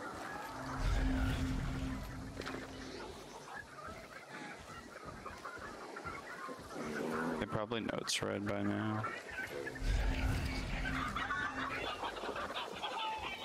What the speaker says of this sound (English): Chickens are pissed.